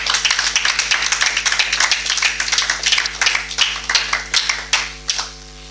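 A church congregation claps in a quick, steady rhythm, the sharp hand claps loud and close, trailing off into quiet at the end, with a sustained low tone beneath.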